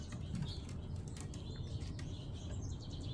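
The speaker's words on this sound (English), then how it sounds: "The Merlin app has told me the majority of the birds here are the house finch and the house sparrow." House finches and house sparrows chirp in short scattered calls over steady low outdoor rumble, moderately distant and faint, with no talk.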